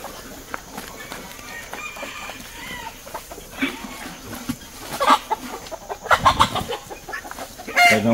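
Chickens cluck on and off as they settle to roost for the night under an orange tree on a small farm, with brief louder squawks near the end and voices now and then.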